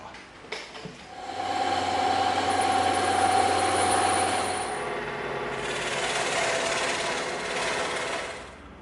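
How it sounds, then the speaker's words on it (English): A bandsaw and scroll saw cut 24mm EVA foam in a workshop, a loud steady motor whine with a continuous buzzing cut that eases off partway through and then resumes. "we're going to go cut these out on the bandsaw and the scroll saw"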